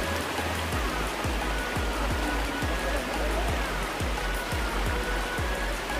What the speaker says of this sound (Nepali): ओ हेर पनि ठाडे खोला